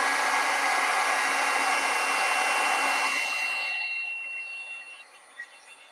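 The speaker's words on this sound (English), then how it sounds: "you need a really strong heat gun, like the embossing gun kind of. And this one makes a lot of noise" A strong embossing heat gun blows with a loud, steady whooshing hiss for about three seconds, then tapers off and falls quiet as it is switched off.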